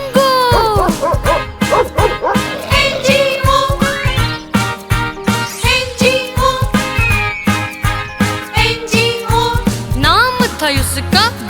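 Cartoonish dog barks and yips ring out over a loud, bouncy children's song with melody and backing instruments, the barks repeating in quick bursts throughout.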